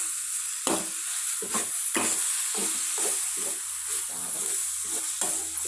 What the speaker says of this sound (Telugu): ఇది నూనెలోనే మగ్గించుకోవాలి. ఇప్పుడు చిన్న ఫ్లేమ్లో పెట్టుకొని